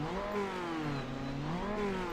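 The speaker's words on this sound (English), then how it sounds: "He's revving." A GTE race car engine revs at a standstill in the iRacing sim at Daytona, a steady droning whine that rises and falls in pitch, moderately loud and continuous, with no talk.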